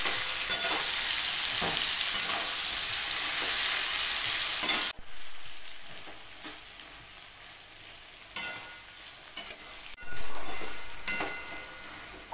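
Taro stolons frying in a pan on a low flame, a steady soft sizzle broken by scraping spatula stirs, with quieter gaps where the sizzle drops away before resuming.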